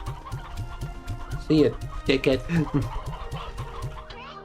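Chickens clucking in the Slime Rancher 2 game, a steady run of short soft clucks with a few louder squawking bursts near the middle, while a voice speaks briefly over them.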